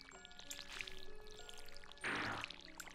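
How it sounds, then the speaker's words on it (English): Crops being watered with a watering can in a farming video game, a short burst of pouring water over steady game music and chimes. "So just got a few more crops to water here."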